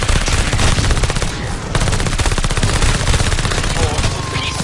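Dense, loud automatic gunfire rattles without pause in rapid bursts, with a brief dip near the middle, the shots blending into a continuous barrage of a firefight.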